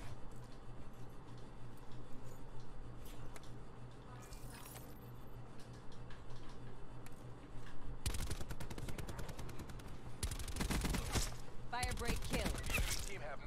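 Rapid automatic fire from an MX9 in Call of Duty: Black Ops 4, a dense burst of shots loud against game ambience, heaviest in the final seconds with a sustained rattling volley.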